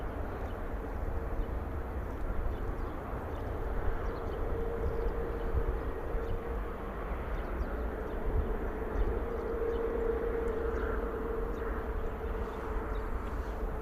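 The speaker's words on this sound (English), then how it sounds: "Fly well, EasyJet A320 off to Amsterdam" An EasyJet Airbus A320 departing and climbing out from an airport produces a steady, broad jet roar with a faint whining tone running through it, distant and constant, with no voices.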